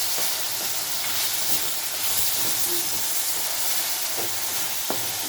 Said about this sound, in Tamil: இதை தண்ணி விட்டு எப்படி வேகணும் பாருங்கள் சூப்பராக வேகுது